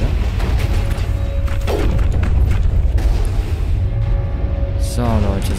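Rockets explode during combat on Pinnacle Station in the video game Mass Effect. Deep booms and heavy thuds land repeatedly amid other game noise, and a voice is heard at times.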